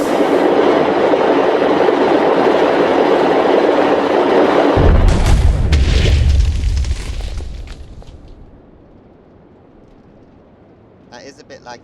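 A torpedo fired by redstone signal in the Minecraft ClockWork Nations weaponry modpack sets off a loud rumbling rush that swells into a deep boom midway, then fades to quiet with a faint clatter at the end.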